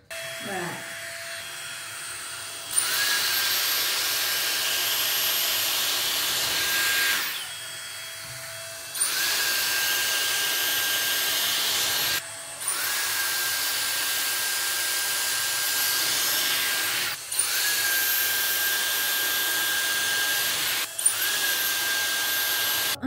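A Dyson Airstrait hair straightener on its dry-hair setting blows a steady, loud whooshing hiss in long runs. It cuts off briefly several times and someone talks over it.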